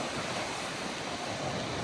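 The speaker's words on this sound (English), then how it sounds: "The waves are just starting to hit the beach." Surf rolling onto a beach after a storm, a steady dull roar of waves mixed with wind buffeting the microphone, continuous and fairly close with no talking.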